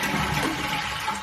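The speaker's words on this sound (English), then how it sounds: "Let's give it a flush." A running toilet with a suspected faulty fill valve or flapper flushes in a loud, close rush of swirling water that fills the whole short moment, with no voices.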